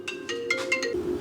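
A short electronic phone ringtone plays a few quick, bright melodic beeps in a rhythmic pattern over a steady low hum, heard outdoors near a riding lawn mower.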